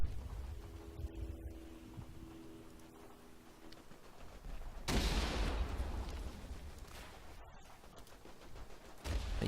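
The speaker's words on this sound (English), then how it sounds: "Oh, and there's the mortar, Minenwerfer." Minenwerfer mortar fire in the World War I shooter Verdun: a heavy blast erupts midway and rolls into a long rumbling tail, with scattered distant gunfire before it and another burst near the end. No one speaks.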